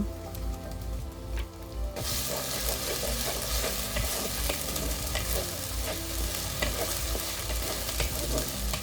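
Browned onions frying with a spoonful of ginger-garlic paste for mutton chusta: a quiet opening, then a loud, steady sizzle with stirring and scraping carried through to the end.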